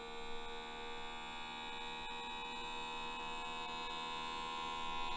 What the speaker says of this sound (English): We'll see how long it takes to seal this jar.